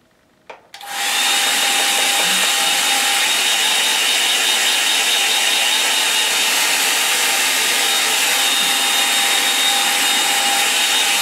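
A hair dryer blows on a drying watercolour painting, switching on after a brief click and then running as a loud, steady, close roar for about ten seconds.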